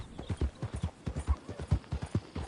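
Horse hooves clip-clop in a steady trotting rhythm on a Western video game trail, roughly a dozen sharp, close, evenly spaced beats with nobody talking.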